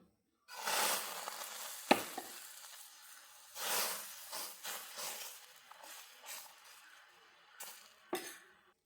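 Egg pathiri batter is poured into a hot pan and cooks, with soft sizzling swells, occasional clinks of utensils against the pan, and quiet frying between, fairly close and faint.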